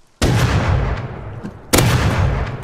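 Two heavy, booming gunshots in the survival game Rust, each a sharp loud blast with a long rumbling tail, spaced about a second and a half apart.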